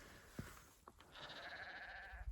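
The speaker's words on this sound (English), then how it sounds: "The sheep aren't asleep yet" Sheep bleat on a dark hillside at night, a short call followed by a longer wavering bleat that carries on over steady outdoor background noise, heard from a moderate distance.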